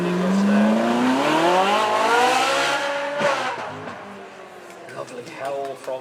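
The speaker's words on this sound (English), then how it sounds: "Lovely howl from that Ferrari, that V8" A Ferrari 458 V8 at the Beaulieu supercar event howls past with a rising, sweeping engine note that fades away. Spectator noise and commentary sounds follow.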